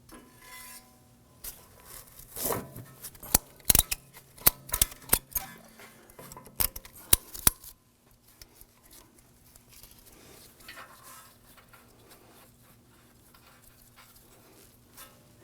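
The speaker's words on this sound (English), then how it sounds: "we're going to use a ratcheting strap here" Ratcheting strap being tightened on the front lower control arm of a 2015-2020 Ford F-150 during a ball joint replacement, heard as a burst of sharp clicks and clacks over the first eight seconds, then a quiet workshop hum.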